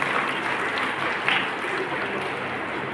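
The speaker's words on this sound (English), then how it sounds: "Give a big round of applause to all these wonderful students." Audience applauding students at a school graduation ceremony for abacus learners, a steady dense wash of many hands clapping that holds evenly for the whole stretch, fairly loud and close with no voices over it.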